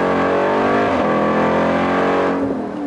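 A Jeep Trackhawk SUV accelerates hard, its engine roaring loud and close with a rising, sustained pitch through the pull.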